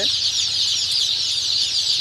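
Sonali super hybrid chicks cheep and cluck continuously in a brooding house under 200-watt brooding lamps. The high chirping is dense and close, with no talk over it.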